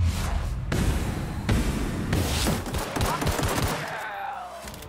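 Gunfire in the video game The Outer Worlds, several loud bursts of shots in quick succession followed by a fading ring, with no talking.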